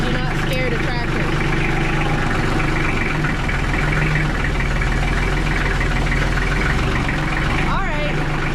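A farm tractor's engine idles steadily with a constant low rumble throughout, while people talk over it nearby during dairy farm maintenance.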